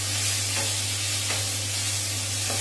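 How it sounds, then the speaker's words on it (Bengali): Chicken frying in a pan with a dense, even sizzle, a constant low hum beneath it and a couple of faint stirring clicks. "দেখতে পাচ্ছেন আমার চিকেন সুন্দর ফ্রাই হচ্ছে।"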